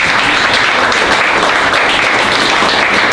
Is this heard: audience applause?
yes